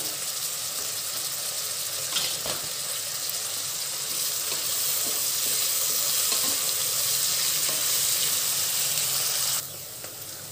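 Onions frying with salt in a pan for tomato rice, a loud, steady broadband sizzle close up with a few soft knocks and stirs, dropping in level just before the end.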